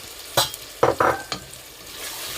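Sliced garlic and four halved green chilies cook in a pan with cumin seeds for chana dal, several close, sharp stirring scrapes over a soft steady sizzle.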